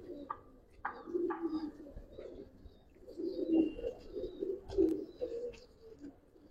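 Old-breed giribaz pigeons give soft, low, repeated coos, faint and close in a loft, with a few light chirps and some background murmur.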